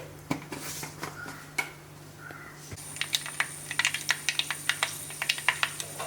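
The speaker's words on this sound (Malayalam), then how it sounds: "നമ്മുടെ കടുക് പൊട്ടി തുടങ്ങിയിട്ടുണ്ട്" Mustard and fenugreek seeds popping in hot oil for a Kerala prawn curry, heard as a dense run of sharp, crackling pops that grows quicker and louder midway, close up, with a steady low hum underneath and no talking.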